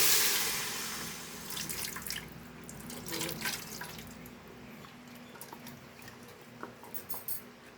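Tamarind soaked in water is squeezed and dissolved by hand, then poured, making soft sloshing, dripping and splashing sounds that start louder and fade into faint, intermittent trickles.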